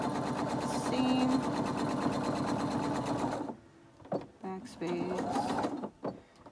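A sewing machine hums steadily for several seconds while stitching a seam on a fabric PPE face mask with elastic ear loops, then cuts off as someone starts talking.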